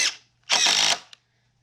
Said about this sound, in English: I'll go ahead and run some screws in here.